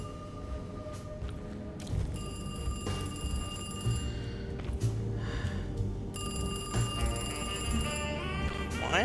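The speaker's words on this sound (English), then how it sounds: "Why is the phone ringing?" A telephone bell rings in repeated bursts, two long trills separated by a pause, over a low rumbling background hum, in the video game Alone in the Dark (2024).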